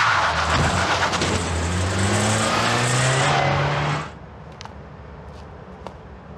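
A car engine revs loudly as the car pulls away, the pitch climbing through rising gears for about four seconds before cutting off abruptly, leaving quiet background with a few faint clicks.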